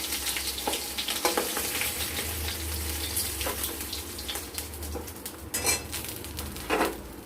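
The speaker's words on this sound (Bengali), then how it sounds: "এবার ওই তেলেই আমরা বড়ি কটা ভেজে নেব।" Lentil dumplings (bori) frying in oil, the same oil used earlier for fish, give a steady close sizzle and crackle with occasional clinks of a utensil against the pan; no one speaks.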